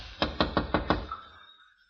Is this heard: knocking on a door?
yes